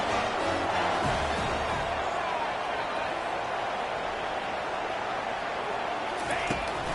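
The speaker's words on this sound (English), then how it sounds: "They are on their feet, yelling, screaming." A large stadium crowd roars continuously, a dense wash of yelling and screaming with a commentator's voice talking over it.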